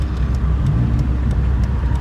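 Dodge Viper engine droning low and steady while driving on a road, with a constant rumble and road noise and faint periodic ticks, close and continuous, no talking.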